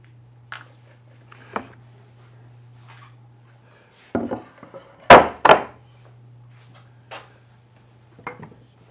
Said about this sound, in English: So grab a little Warrington hammer and off.